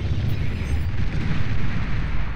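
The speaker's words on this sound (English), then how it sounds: "Every one of those dots is somewhere where the bombers will try to drop their bombs" Bombers in Beyond All Reason drop their payloads, producing a dense, continuous rumble of overlapping explosions with a heavy low boom throughout.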